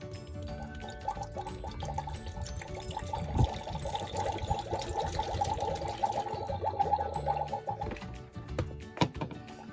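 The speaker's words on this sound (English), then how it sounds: "I filled it up with water and now we have to pour it inside." Water poured from a small container into a toy potion bottle, a soft trickling and dripping that runs for several seconds at low level before thinning out, ending with a few faint clinks.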